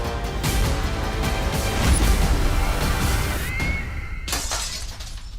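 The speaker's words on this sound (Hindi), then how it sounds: "क्रिकेट की गेंद से फिर से खिड़की के शीशे तोड़ना शुरू कर दिया" Window glass shattered by a cricket ball, a loud, dense crash of breaking panes with scattering shards continuing through the clip and a second burst of shattering near the end, heard alone without talk.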